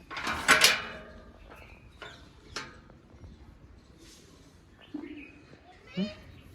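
Birds chirp outside, with a few scattered tweets and soft coo-like calls. The calls are fairly faint and come at irregular intervals over a quiet background.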